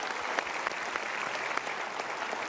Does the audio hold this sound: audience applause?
yes